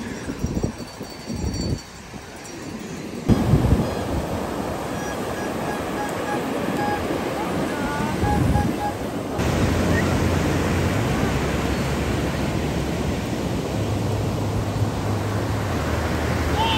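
Strong surf at La Union roars continuously as a dense, steady wash of breaking waves, loud and close, with a few thumps and shifts in the noise.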